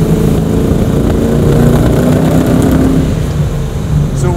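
A supercharged 1969 Camaro idles and rumbles loudly and steadily from close by, a low engine drone with faint irregular popping mixed into the exhaust note, and no voices.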